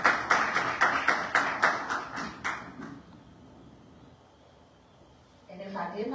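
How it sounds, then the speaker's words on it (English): A few people clap in a quick, even rhythm at a Women's History Month conference as a keynote speaker comes up, then the clapping stops and someone begins talking near the end. "Y'all give her a round of applause as she comes."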